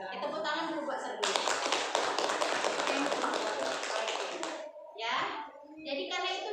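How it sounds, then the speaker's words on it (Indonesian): A roomful of junior high students and teachers at SMPN 7 Bathin Solapan claps in a dense, lively burst for about three seconds, with children's voices chattering before and after. "Tepuk tangan dulu buat Serbi."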